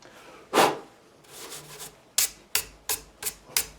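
Nut slots on a Fender Jim Root Telecaster filed by hand, a close dry rasping stroke followed by a run of short, sharp scraping strokes in an uneven rhythm.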